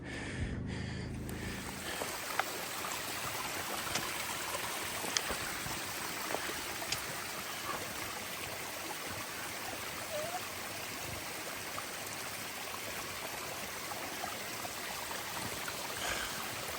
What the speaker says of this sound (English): this is a flowing stream, all moving down, not really pulling up